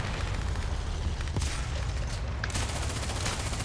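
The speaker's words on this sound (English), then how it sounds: "Oh, they're going to shoot me" Enemy tanks fire in the War Thunder tank game, a dense barrage of booming cannon shots over a constant roar of battle, loud and steady throughout, with no talk.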